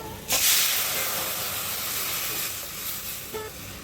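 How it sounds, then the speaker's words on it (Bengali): Spices for tempering (phoron) hit hot oil with a sudden loud hiss that settles into a steady, close sizzle lasting several seconds, with no talking. "চালটা এখন ফোড়ন দিয়ে দেবো"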